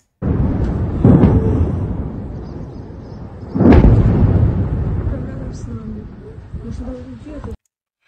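A huge explosion at a Russian weapons and ammunition depot in a former coal mine booms with a deep rolling rumble, then a second heavy secondary blast follows a few seconds later and slowly fades.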